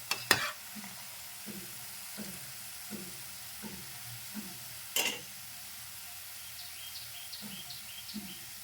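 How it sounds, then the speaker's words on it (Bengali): Boondi frying in oil for ladoo, a low steady sizzle broken by regular soft scraping strokes as the drops are stirred and turned, a couple of sharp metallic clacks, and faint bird chirps in the background. "এইভাবে উল্টে পাল্টে উল্টে পাল্টে ক্রিস্পি করে নিতে হবে"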